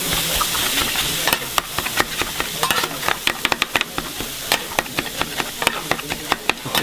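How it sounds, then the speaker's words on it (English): Fried rice with kimchi cooks in pork grease on a hot stone, giving a loud continuous sizzle while a spatula scrapes and taps the stone in quick, uneven strokes. "they make fried rice right in front of you on the hot stone again"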